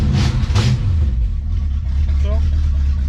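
A 1972 Dodge Challenger muscle car idles with a loud, rough exhaust and partly repaired pipes, a steady low rumble close by, with a brief voice near the start.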